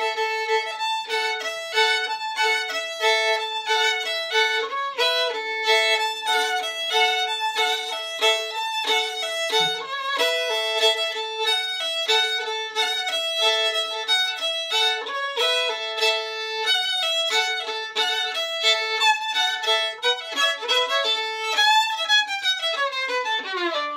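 A fiddle plays the tune Shortnin' Bread alone, quick and bright, with accented double-stop chords landing on every offbeat in a steady bouncing rhythm.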